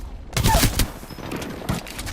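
Bursts of game gunfire crackle through a video game shootout, loudest in the first second with a dense volley, then scattered shots continue under steady background noise.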